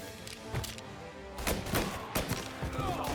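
Bursts of gunfire from the video game Mafia crack out in scattered shots and short volleys, fairly faint and distant-sounding within a busy game soundscape.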